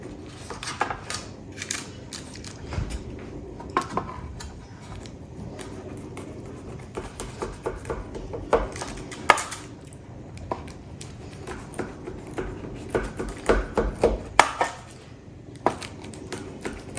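A knife cuts through a slab of homemade protein bars, making a long run of soft irregular taps, thuds and scrapes against the board and tray, close and quiet with no talking.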